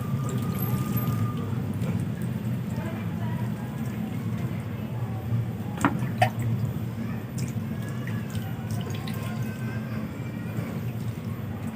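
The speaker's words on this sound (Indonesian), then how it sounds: "Ini saya coba langsung siram sekarang sebelum dipindahin." Water poured from above onto a chili pepper seedling growing in a polybag, a steady soft splashing and dripping spread over the whole stretch, with a constant low background hum and a few brief sharper drips.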